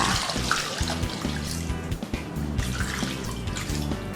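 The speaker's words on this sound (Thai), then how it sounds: "แล้วเราก็จะเทน้ำลงไปค่ะ" Water pours into a cooking pan holding pork belly set to boil, a continuous close splashing and trickling stream with dripping textures throughout.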